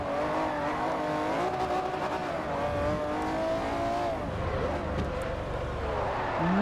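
McLaren engine in the racing game Forza Motorsport 4, a steady high-revving roar with shifting pitch as gears change and brief tire squeal, loud throughout with faint talk underneath.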